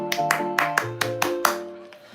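Hands clapping in a quick, steady rhythm of about seven close, loud claps over two seconds, with a sustained musical tone underneath.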